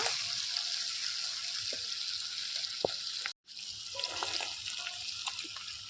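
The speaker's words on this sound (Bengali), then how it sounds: "চিংড়ি মাছটা লাল লাল করে ভেজে নেব।" Prawns frying in a pan until they turn red, a steady broadband sizzle filling the whole stretch with a brief drop partway through, set in an outdoor rooftop kitchen.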